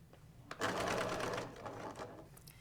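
Sewing machine stitching upholstery fabric for a box cushion cover, a rapid close mechanical whirring chatter that runs for about a second, then slows and stops, with light handling noises around it.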